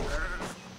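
A goat in Assassin's Creed Odyssey gives a short, loud bleat as it is killed. The cry is close and lasts under a second.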